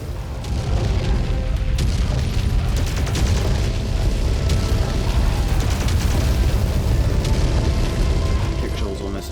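Dense, continuous game combat roar in Mechwarrior 5: Mercenaries, with heavy low booms from missile explosions and weapon fire layered throughout, loud and sustained, with mech computer voice callouts mixed in.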